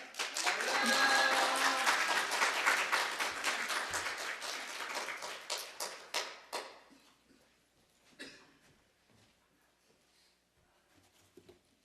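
A church congregation claps steadily for several seconds, loud and dense, welcoming a pastor, then the applause thins out and dies away, followed by scattered small sounds.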